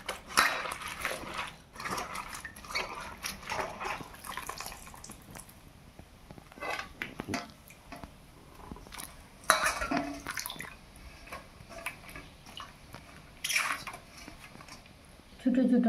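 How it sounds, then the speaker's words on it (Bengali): Cut banana flower pieces being washed in a bowl of water in a home kitchen, giving intermittent sloshes, drips and clinks of dishes and utensils, fairly close and moderate in level, with speech in the background. "এখন এগুলো ভালো করে ধুয়ে কেটে নেব।"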